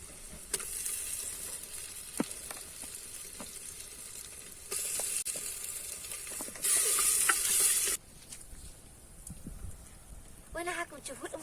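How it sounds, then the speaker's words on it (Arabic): Onions fry in a pan while meat is added, giving a steady sizzle with scraping stirs and clinks, a louder hissing burst midway, and someone talking over the cooking. "من بعد ما تقلي لي هذاك البصل رايحه نزيد تاني اللحم"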